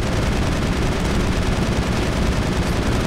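Relentless automatic gunfire from the video game Mass Effect, a dense, unbroken stream of shots with no pauses, loud and up close, with no talking over it.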